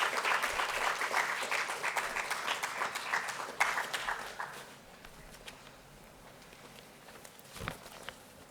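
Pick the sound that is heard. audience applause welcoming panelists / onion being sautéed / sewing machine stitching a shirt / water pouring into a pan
audience applause welcoming panelists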